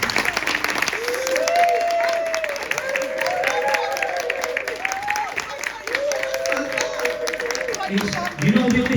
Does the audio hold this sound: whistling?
no